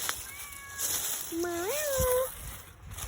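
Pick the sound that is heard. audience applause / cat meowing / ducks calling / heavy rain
cat meowing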